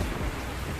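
Heavy rain pours down steadily during a flood-season downpour in Pathsala, a dense continuous roar with deep low rumbling, loud and close with no voices.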